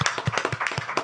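A group claps for a podcast guest as he is welcomed, with quick, uneven hand claps close by and rising and falling in bursts over about a second.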